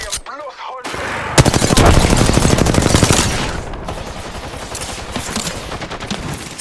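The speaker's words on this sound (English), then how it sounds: "Shots fired at me." Rapid automatic gunfire in Apex Legends, a dense close burst that swells after a brief quiet start and then continues as sustained shooting with lighter shots trailing off.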